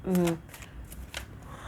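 Soft papery tarot card shuffling rustles in quick bursts at close range, following a brief voice at the start.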